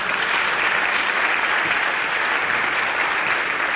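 A church audience applauding to acclaim God, dense sustained clapping from a large crowd, loud and even from start to finish.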